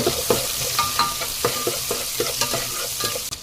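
Onions sauté in hot oil for brinjal sambar, a continuous close sizzle broken by quick, regular scraping stirs of a spatula throughout.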